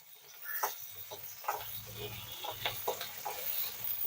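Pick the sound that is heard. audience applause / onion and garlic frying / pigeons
onion and garlic frying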